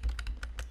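Typing on a computer keyboard while working with I2C tools on a BeagleBone, heard as a quick run of about five light, distinct key clicks, close and fairly quiet, with no talking.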